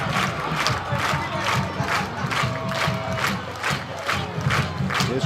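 Dense, steady roar of a large football crowd cheering in a stadium after a touchdown at a Texas high school regional final, Port Neches-Groves against Marshall, with rhythmic surges of noise sustained throughout and no talk over it.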